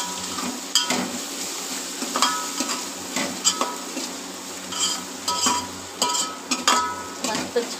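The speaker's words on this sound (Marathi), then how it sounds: "व्यवस्थित आता आपण हे परतून घेऊ." Chicken pulao ingredients are sautéed in a pan, giving a steady sizzle broken by repeated scraping stirs and light clinks of a utensil against the pan, close up.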